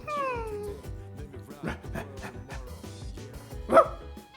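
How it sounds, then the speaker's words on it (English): In the video game Persona 3 Reload, a human actor voices a dog, and the yelps and whines come as a series of short, pitched calls over background game music. "Still sounds like a human voicing a dog."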